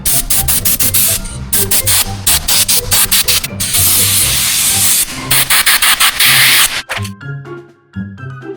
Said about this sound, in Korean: 일단 이렇게 클리너를 묻혀가지고 닦아주는 게 중요하다고 합니다